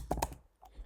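A short burst of computer keyboard keystrokes as a password is entered, two or three soft close clicks followed by a fainter tap.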